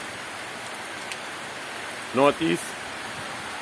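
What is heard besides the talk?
tropical storm rain in Trinidad and Tobago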